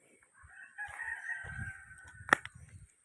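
A rooster crows a long drawn-out call while chickens cluck and peck nearby, with a sharp clack near the end.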